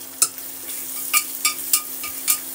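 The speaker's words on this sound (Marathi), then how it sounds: "आलं लसूण पेस्ट टाकल्यानंतर मिरची टाकणार आहे मी." Ginger garlic paste and chili fry in a pan for a pea pulao, a soft steady sizzle broken by several sharp, evenly spaced scrapes and taps of stirring.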